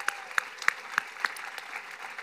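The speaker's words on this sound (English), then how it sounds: "a round of applause for them." Sparse applause at a conference's closing plenary: a handful of sharp separate claps spaced roughly evenly, thinning into scattered lighter claps over a faint room hiss.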